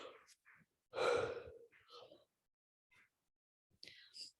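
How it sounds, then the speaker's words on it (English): A deep breath drawn in during a guided meditation and tapping session, one strong inhalation lasting about half a second, with a few softer breaths and faint mouth sounds before and after in a quiet room. "Breathe it in."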